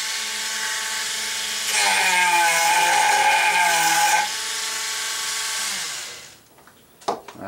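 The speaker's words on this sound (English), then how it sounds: "I just use a Dremel tool, and it seems to work pretty good" A Dremel rotary tool with a rough metal bit grinds on mandolin work in a continuous high whine that rises in pitch midway, then winds down and stops, leaving a few clicks. It is close and alone.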